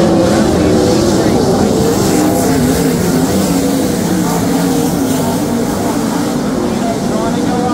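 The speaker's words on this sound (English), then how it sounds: "having a sprint car just fly by you 900 horsepower" Sprint cars with 900 horsepower engines racing on a dirt track, a loud continuous engine roar that swells and fades as the cars pass.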